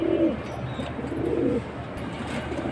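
Pigeons at a pigeon market, with soft low coos rising and falling close by over a steady background murmur, no clear talk.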